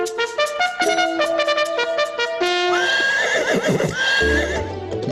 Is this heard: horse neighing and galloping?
yes